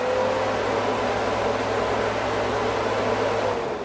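A 12-volt electric cooling fan wired to a Lancia Prisma HF integrale runs in reverse with a steady close whir and airy rush, holding constant before easing slightly at the end.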